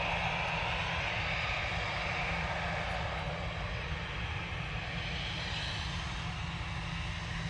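An airliner departing Manchester Airport for Belfast roars steadily throughout, a loud, continuous broadband engine rumble with no break or fade.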